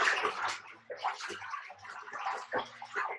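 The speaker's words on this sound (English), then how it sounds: "It's good to stir up the pulp, before you go into it." Paper pulp stirred by hand in a tub of water, with repeated close sloshing and swishing in uneven bursts, plus a faint low hum underneath.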